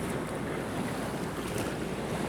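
A surge wave from glacier calving in Alaska: a broad wash of surging water, a steady rushing roar with wind noise over it, continuous and close.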